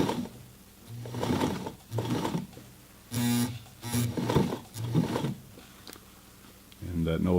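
Motor of a Singer 237 sewing machine whirring in short bursts as the foot pedal is pressed while hemming jeans, several separate spurts with quiet gaps between and a voice speaking in between.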